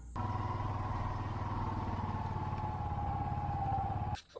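A motorcycle engine runs steadily nearby with a low, throbbing idle and a faint rattle, then cuts off abruptly near the end.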